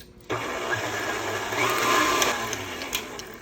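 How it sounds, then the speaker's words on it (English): An electric mixer beats sugar cookie dough with an added egg at medium speed, a steady whirring motor hum that starts abruptly and runs continuously. "we're going to mix this on medium heat, speed for 1 to 2 minutes"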